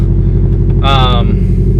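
A deep, steady engine rumble from a Subaru WRX STI with its muffler deleted idles loudly throughout, with a brief higher tonal whine rising over it partway through.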